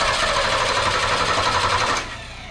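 Engine of a 1961 Ford Falcon Delivery sputtering while flooded with too much fuel, a loud rapid uneven chugging that cuts back to a quieter idle after about two seconds.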